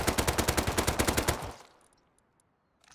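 The HM LMG machine gun fires in the video game Rust, a rapid sustained burst of about sixteen evenly spaced loud shots that stops abruptly, leaving near silence with a few faint clicks.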